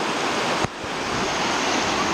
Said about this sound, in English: It's actually the exact opposite of a waterfall. The water is coming up from under the ground.